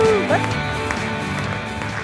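Steady applause from a studio audience on a sports-themed TV show greets a guest actress, a dense and even patter of many hands that starts right away, with a brief voice near the start.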